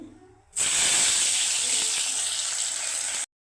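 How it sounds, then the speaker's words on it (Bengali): Sweet potato and carrot chips drop into hot oil and burst into a loud, steady sizzling hiss that holds for a few seconds before cutting off abruptly. "আমি বাকিগুলো এইভাবে ভেজে নেব জলটা ঝরিয়ে"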